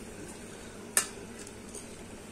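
Fish bhuna cooking with onions in a pan on a gas stove, a soft steady sizzle with light stirring scrapes and one sharp clink of a utensil against the pan.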